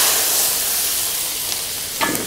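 Green chillies frying in hot oil with mustard seeds and cumin give a steady, loud sizzle and hiss, with a brief crackle near the end.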